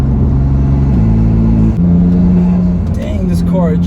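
A BMW F80 M3 fitted with Pure Stage 2 turbos accelerating hard, its engine droning loudly as it holds steady tones that step up through the gears, heard from inside the car.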